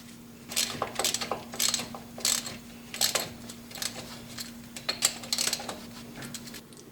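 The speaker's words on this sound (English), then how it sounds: "Let's reattach our front drive shaft. This is done using a 5/16-inch socket." A ratchet with a 5/16-inch socket clicks in quick metallic bursts while reattaching a Jeep's front drive shaft, several short runs of ticking separated by brief pauses, close and fairly quiet.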